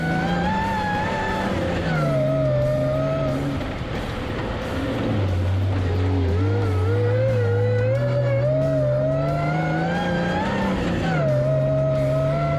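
Off-road vehicle engine on a trail at Gold Mountain, Big Bear, loud and continuous, pitch rising and falling as it downshifts and throttles back up, close and with no speech.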